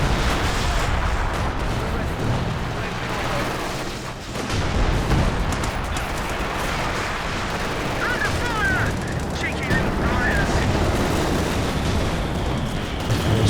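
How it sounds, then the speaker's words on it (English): Heavy mortar barrages pound a Company of Heroes 2 battlefield, a dense continuous wash of explosions and gunfire rumbling throughout with a brief lull midway, loud and layered under the game's constant battle noise. "Maybe it's just the heavy mortar barrages."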